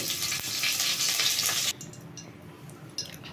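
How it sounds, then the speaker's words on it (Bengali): Green chili and five-spice seeds hit hot oil with a loud burst of sizzling and crackling for under two seconds, which then drops to a quieter background fizz. "এবার আমি ফোড়ন দিচ্ছি একটা কাঁচা লঙ্কা এবং কিছুটা"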